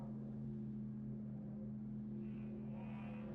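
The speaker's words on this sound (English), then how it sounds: "So we're going to use the onboard tractor beam to flip over the links." A ship's heavy-duty onboard tractor beam works slowly in a space video game, giving a steady, faint low mechanical hum with sustained tones and no talk.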